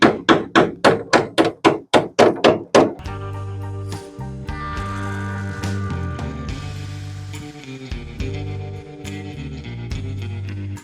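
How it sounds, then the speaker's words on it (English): About ten sharp metallic hammer blows on an impact screwdriver, loosening stubborn screws on an Aston Martin DB4, in a quick, steady rhythm, close and loud, followed by a low mechanical rumble with clanking. "I'm going to hit the back of the driver with a hammer"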